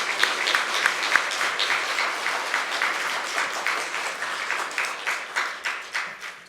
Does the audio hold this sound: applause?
yes